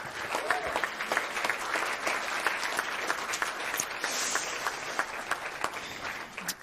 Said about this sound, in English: how good another round of applause for Benjamin